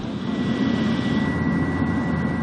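Steady engine drone of a Bureau of Fisheries and Aquatic Resources maritime patrol airplane in flight over the sea near Scarborough Shoal, a loud continuous roar with a sustained whine, heard from inside or close by.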